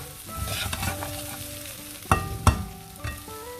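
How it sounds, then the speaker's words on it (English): Farrey sautéing in a pan sizzles close up under stirring, with two sharp utensil knocks against the pan partway through and a fainter tonal ring. "Now my furry is getting sauteed really well."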